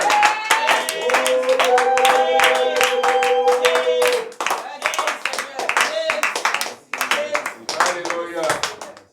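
Church congregation clapping rhythmically at a New Year's celebration night, loud and close, with a voice singing or acclaiming over the steady hand claps throughout.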